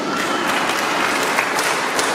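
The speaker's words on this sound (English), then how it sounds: "that's good to give yourself a round of applause, right?" Steady, dense audience applause fills a school concert and graduation hall, sustained and loud throughout with no pauses.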